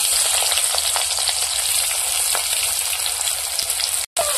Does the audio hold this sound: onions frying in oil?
yes